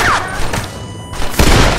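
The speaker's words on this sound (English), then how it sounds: "let me use my nice Springfield rifle" Springfield rifle shots fired in the Western video game Red Dead Redemption: two sharp, booming blasts about a second apart, the second louder and fuller, over a steady rumbling game background with faint voice.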